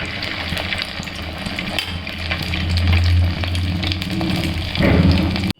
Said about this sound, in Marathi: थोडासा छोटासा वडा त्यामध्ये सोडून पाहते मी. तापलं तर व्यवस्थित तळल्या जातील.